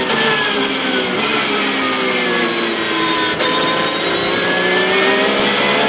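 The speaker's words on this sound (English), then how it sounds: "The unmistakable engine note of that flat 6" Porsche flat-six race car at the 24 Hours of Daytona, a loud sustained high-revving engine wail with rising pitch lines as it accelerates, brief gear-change dips, steady and close without speech.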